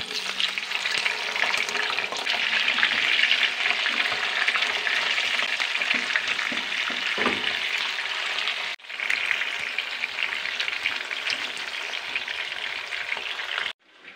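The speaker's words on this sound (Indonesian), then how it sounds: "Ikan parinya kita goreng ya." Stingray fish frying in hot oil for sambal, a loud, continuous sizzle and crackle that holds steady, drops out abruptly once midway, then resumes and cuts off near the end.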